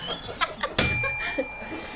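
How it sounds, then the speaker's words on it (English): A single bright bicycle-style bell ring cuts in sharply and rings on for about a second, close and loud, during an improv comedy scene with faint chuckling and voices around it. "don't ring that bell"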